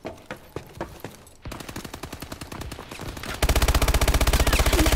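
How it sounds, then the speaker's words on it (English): Rapid automatic gunfire from a multiplayer shooter video game, starting with scattered shots and building into a dense, loud sustained burst near the end, with no talk over it. "I got shot on my back again"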